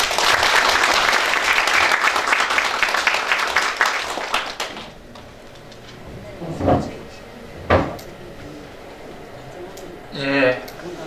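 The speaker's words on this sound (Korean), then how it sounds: "최진규 강사님을 큰 박수로 환영해 주시기 바랍니다" Audience applause welcoming herbal-medicine lecturer Choi Jin-gyu at a lecture hall in the Gyeongbuk provincial office, a dense burst of clapping for about five seconds that fades into quiet room noise, broken by a few isolated thumps and knocks.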